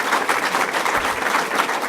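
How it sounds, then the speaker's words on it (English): An audience at a city planning department event claps in a brief, dense burst of applause that stays fairly steady and close throughout. "The former assessor led that applause."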